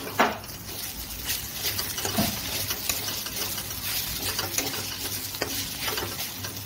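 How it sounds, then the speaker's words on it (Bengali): Continuous hissing sizzle of momo filling frying in a pan, with a few sharp spatula taps and scrapes against the metal. "এবার এটাকে ভালো করে ভেজে আর নামিয়ে নিব"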